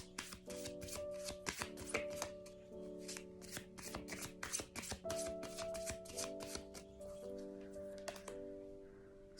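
A deck of self-care cards is shuffled by hand, making rapid riffling flutters and soft slaps in repeated bursts, close and fairly quiet. Faint background music sits underneath.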